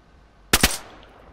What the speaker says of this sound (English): Yeah, I'm shooting at him.